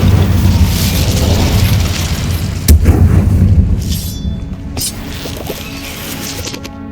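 A fire spell cast in Hogwarts Legacy lands with a heavy, booming burst near three seconds, over a dense rumbling battle bed that fades into fainter crackle and sparkle afterward.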